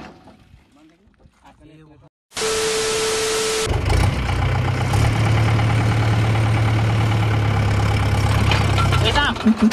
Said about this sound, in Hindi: ट्रैक्टर स्टार्ट मारेगा